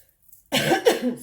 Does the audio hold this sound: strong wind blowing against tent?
no